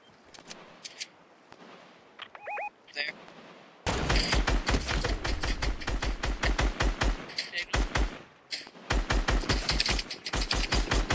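Rapid bursts of automatic gunfire crackle through a battle royale video game match, with a few sparse shots and game interface chimes at first, then dense sustained volleys up close.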